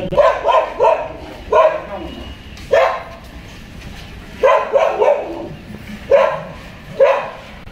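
A dog barks loudly nearby in repeated bursts, quick runs of two or three barks with short pauses between them.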